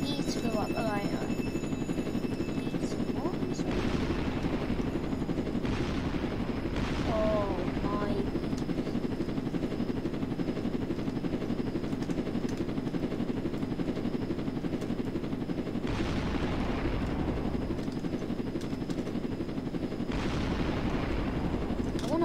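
A steady helicopter rotor drone runs throughout at moderate level, with bursts of gunfire-like noise and voices talking over it.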